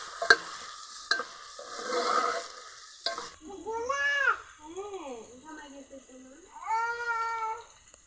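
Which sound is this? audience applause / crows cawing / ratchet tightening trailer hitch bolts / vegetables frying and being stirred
vegetables frying and being stirred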